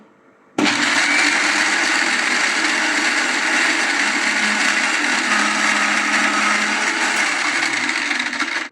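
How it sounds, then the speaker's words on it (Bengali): A kitchen blender whirs loudly and steadily as it mixes sweet yogurt lassi with ice, starting abruptly after a brief quiet moment and running without pause. "এই তো ব্লেন্ডার করে নিচ্ছি।"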